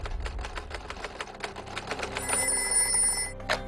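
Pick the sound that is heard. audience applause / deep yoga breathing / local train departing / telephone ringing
telephone ringing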